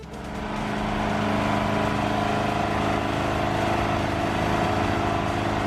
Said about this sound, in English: The footage you're about to hear is what it sounded like when the generator was running.